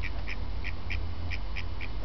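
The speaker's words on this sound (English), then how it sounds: "Where are the little duckies?" Ducks in Speyer, Germany quack in a quick series of about eight short calls at a steady, close, moderate level over a low background rumble.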